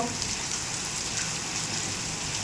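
Hail and rain fall hard in a windy storm, a constant dense patter of impacts close by, continuous and unbroken, with no speech.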